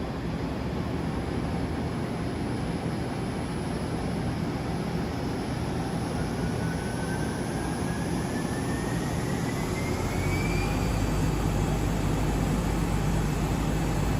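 An Okuma LB 35 CNC turning center lathe with an 18-inch air chuck spins at 1,000 RPM, a steady, loud broadband whir with a faint rising whine partway through, constant and alone in an otherwise quiet facility.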